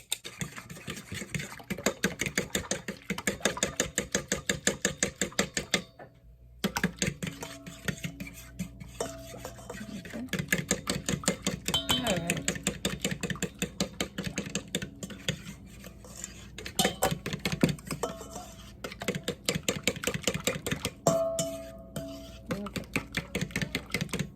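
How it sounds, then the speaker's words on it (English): Eggs whisked in a bowl for an Easter bun recipe: rapid, rhythmic clinking of whisk against the bowl, close and steady, with one brief pause and a few sharper knocks. "I'm going to whisk my eggs."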